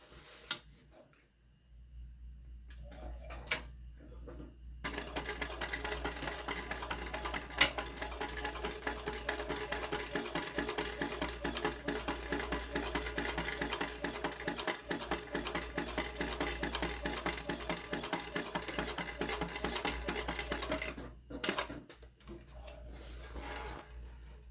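A sewing machine runs in a steady rapid stitching rattle while sewing lines on a tote bag, starting and stopping with brief pauses and short backstitch bursts at the beginning and end, close and alone with no talk.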